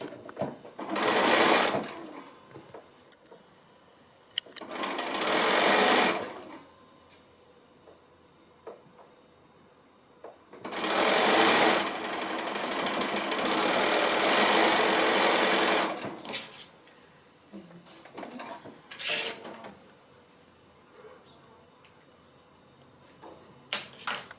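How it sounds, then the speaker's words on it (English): A sewing machine stitches strips onto a quilt star block in several separate runs, short bursts of fast whirring with one longer stretch, broken by quiet pauses with small handling clicks. "So I'm going to go ahead and stitch those on"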